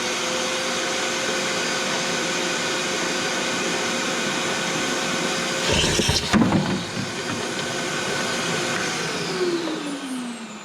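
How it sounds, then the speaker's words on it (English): Shop vacuum cleaner running steadily near dozer maintenance work, a loud close whine and roar that holds throughout with a brief bump of handling noise in the middle. "I'm gonna turn the vacuum on."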